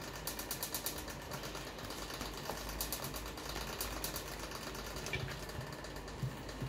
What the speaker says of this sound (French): J'espère que vous m'entendez bien puisque j'ai mis le ventilo un peu.